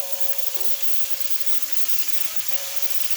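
A freshly caught fish fillet sears in a hot frying pan, giving off a steady, close, continuous sizzle and crackle for the whole stretch, with a faint tonal hum in the background and no talking.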